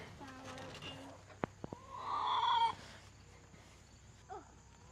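Hens in a muddy backyard chicken coop cluck and squawk in short bursts, one louder drawn-out call standing out, with a few sharp knocks and a voice speaking briefly nearby.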